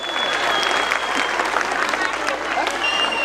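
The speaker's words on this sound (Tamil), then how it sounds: "மைத்துனர் சிவா அவர்களை வரவேற்பதிலே உங்களை பலத்த கரகோஷத்துடன் அவரை வரவேற்பதிலே பெருமை அடைகிறோம்." Audience applause welcoming a guest at an event, a steady dense clapping crowd filling the whole moment at moderate loudness.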